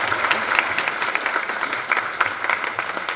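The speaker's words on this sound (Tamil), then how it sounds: "நல்ல கைத்தட்டு கொடுங்க அவருக்கு." Audience applause at a Tamil film audio and trailer launch, a dense steady wash of many hands clapping that fills the whole stretch at moderate loudness, with no voice over it.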